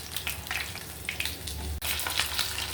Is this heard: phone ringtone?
no